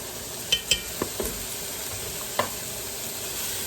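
Flour being stirred into gravy in a pot beside Boston butt and beef neck bones: a soft steady sizzle with a few light clinks of a utensil against the pot, fairly close, no talk.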